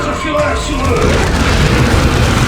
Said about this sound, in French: Utilisez une grenade.